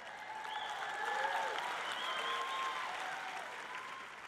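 A congregation applauds during a church sermon, with sustained clapping and some cheering voices rising in the middle and then gradually tapering.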